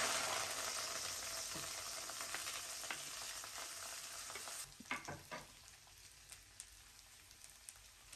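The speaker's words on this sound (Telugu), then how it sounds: "ఇప్పుడు పాన్ పెట్టుకొని ఫ్రై చేసుకోవాలి" Onions go into hot oil in a pan, starting with a loud, broad sizzle that thins partway through into softer crackling with a few sharp pops and stirring clatters, no talk.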